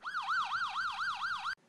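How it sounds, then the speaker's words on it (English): An ambulance siren wails loud and close, with about six quick rising-and-falling pitch sweeps in a steady rhythm and no voices over it, before cutting off abruptly. "the wavelength of the sound heard by the listener as the ambulance approaches will be"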